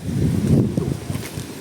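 A small boat's roughly 13 HP diesel engine runs with a steady low chugging rumble, mixed with wind buffeting the microphone over a short stretch.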